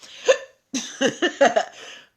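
A person hiccups several times in close succession: one sharp gulp, a brief pause, then a quick run of four or five breathy, jerky catches, loud and near with no other sound.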